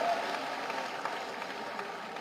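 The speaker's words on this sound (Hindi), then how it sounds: "एक जोरदार ताली बजा दीजिए, उनको आईफा पुरस्कार मिला है" A large audience breaks into loud, sustained applause for an IIFA award winner at a public event, a dense steady wash of clapping heard at a distance.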